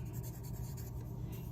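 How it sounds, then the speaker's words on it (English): Pencil or crayon scratches softly on black paper as a name is written in a kindergarten classroom, a faint continuous scribble over low room hum. "You are going to write your name"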